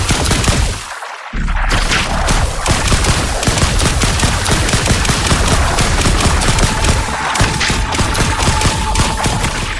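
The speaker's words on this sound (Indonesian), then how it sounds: "Jadi tembak-tembakan biasa." Dense, sustained gunfire from an electric weapon in the video game The Last Caretaker, with rapid shots and bursts of fire running almost without a break. It is loud and close, with no talk over it.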